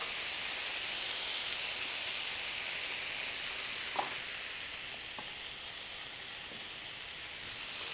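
Peppers, tomatoes and onion for a vegan breakfast hash sizzle loudly in a frying pan, a dense, steady hiss that eases slightly midway, with a few faint taps.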